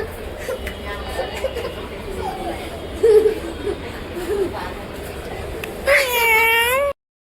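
A household cat meows several times amid a family's chatter, short mews scattered through the talk and then a loud, rising, drawn-out yowl near the end before a sudden cutoff.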